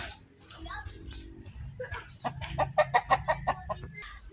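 A flock of gamefowl kept for cockfighting clucks and cackles close by in a rapid run of sharp, bursty calls, rising in intensity toward the end, with a voice briefly audible early on.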